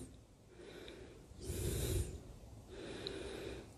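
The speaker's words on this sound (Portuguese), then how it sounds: "Sente a sua respiração acontecendo." Slow, audible breathing during a yoga practice, with two broad airy breaths, one stronger inhale or exhale in the middle and a softer one near the end, close to the microphone with no talking.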